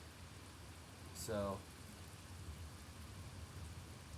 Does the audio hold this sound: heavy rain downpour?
yes